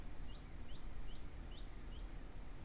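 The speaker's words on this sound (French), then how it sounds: "J'entends les petits oiseaux dehors." Small birds chirp outdoors, five faint, evenly spaced tweets rising over a quiet, hissy background.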